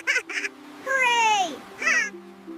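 Cartoon duckling quacking, a few short nasal calls followed by a longer drawn-out falling quack and another brief quack, close and clear with no talk over it.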